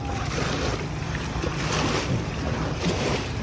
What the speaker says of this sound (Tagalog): Dumami naman ng alon ah.